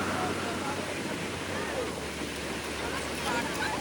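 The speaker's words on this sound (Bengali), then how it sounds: "এখন ঢেউটা মারলো।" Sea waves break and wash along a beach where children run into the water, a steady broad roar of surf with wind buffeting the microphone throughout.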